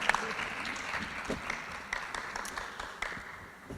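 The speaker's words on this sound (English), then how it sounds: "Wow, that was a nice long extended clap there." Extended applause for panelists at a Merz Golden Ratio event in Singapore in 2017, a moderately loud spread of audience clapping with scattered sharper claps, slowly fading across the stretch.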